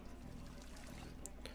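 Drinking water from a sink in the video game Project Zomboid: a short, soft pouring and trickling of water at close range, ending with a couple of faint drips, with no talking.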